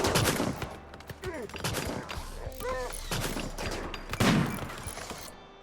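Gunfire during RimWorld combat, with several sharp shots and bursts scattered between quieter stretches, one heavier blast near the end.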